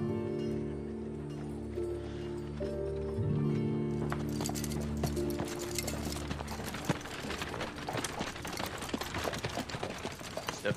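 Hooves clopping along amid a busy mix, with sustained musical tones early on giving way to denser clattering beats.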